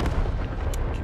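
A single heavy gunshot from the Wasteland 3 game, a loud booming report that fills the brief moment alone with no talk.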